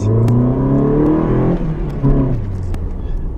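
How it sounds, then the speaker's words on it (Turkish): Mazda Lantis car engine revved hard, a loud rising then falling engine whine heard close, with a second shorter rev climb and fall before it settles. "Yani yüksek devir çeviren bir araba."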